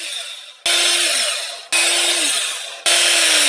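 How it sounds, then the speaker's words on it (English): A small drill bit bores a straight hole in wood, three bursts of loud, whirring drilling with brief pauses between them, close up with no talking. "So you just come in here and carefully drill a straight hole"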